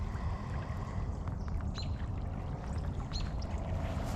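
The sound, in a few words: creek water flowing after heavy rain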